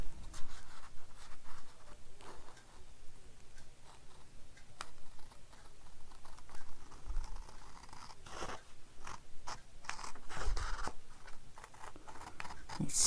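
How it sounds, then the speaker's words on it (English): Scissors snipping through paper while cutting out a shape, a steady run of close, crisp cuts with small pauses, no talking. "So now we're going to have to cut this out around here"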